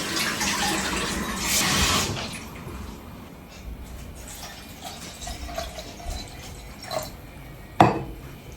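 Water splashes into a bowl of yogurt to make homemade buttermilk in a kitchen in England, with a broad pouring rush for about two seconds, then quieter trickles and a sharp clink near the end; no talking.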